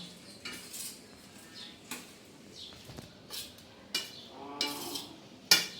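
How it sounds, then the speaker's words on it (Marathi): Sago (sabudana) khichdi is stirred in a pan with a spoon, giving faint, scattered metallic clinks and scrapes at irregular intervals with quiet pauses between them. "आता आपण याच्यात हे टाकायचं शाबुदाणे हे बघा असं हलवून घ्यायचं"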